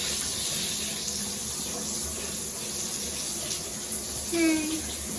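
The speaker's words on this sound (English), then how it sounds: "Turn on the water supply and check for any leakage." Water running from a repaired bathtub faucet, a steady moderate gush filling the tub throughout, with a brief higher tone near the end.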